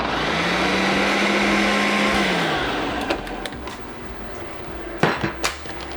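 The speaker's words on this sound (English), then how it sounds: "So I'm gonna go ahead and add that and blend it up." A blender whirs for about three seconds while blending milk into a creamy roasted poblano sauce, a loud close motor drone that winds down into several sharp knocks and clatters of kitchenware.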